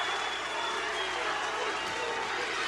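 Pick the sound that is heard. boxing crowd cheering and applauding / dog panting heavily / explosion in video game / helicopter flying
boxing crowd cheering and applauding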